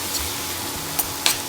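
Tomatoes sauté in a pan with a steady, close frying hiss, broken by a couple of brief crackles as the mixture cooks for a methi matar malai with paneer.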